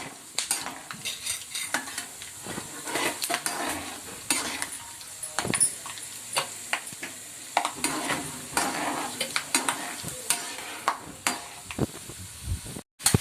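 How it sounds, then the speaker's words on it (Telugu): Peanuts fry in a pan while being stirred, a steady sizzle under repeated scraping and clinking spoon strokes, close and continuous throughout. "వేరుశనగ గుళ్ళు అయితే బాగా ఎగిపోయినాయి కదా."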